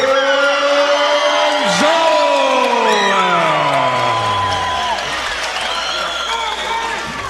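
A crowd at a Hawaii MMA event cheers, whoops and applauds for fighter Kaipo Gonzales after his introduction. The roar is loud and sustained, with bellowing voices mixed in, and it fades slightly toward the end.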